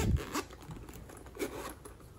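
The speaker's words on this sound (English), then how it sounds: "and then the zipper." A zipper runs along a small Nintendo Switch carrying case, making a close, scratchy pull with a few short uneven bursts and light rustling.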